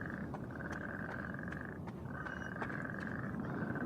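Frogs croak steadily in the Pineview Drive video game, a continuous droning chorus with sharper clicky calls on top, moderately loud ambient background throughout with no talking.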